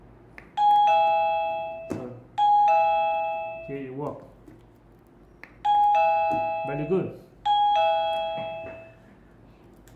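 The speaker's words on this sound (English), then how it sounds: "you can directly press the doorbell button and see if the AF bell will ring" A Zilink Cobell HD wifi doorbell's indoor chime rings four times, sounding a bright two-tone ding-dong. Each tone rings out and decays, and someone talks briefly between the rings.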